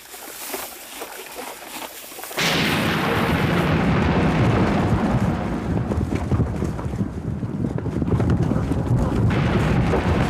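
A sudden heavy rumble of dry-thunderstorm thunder on the open Hungarian puszta between the Danube and Tisza breaks in after a quieter stretch of wind, then rolls on loud and deep for several seconds.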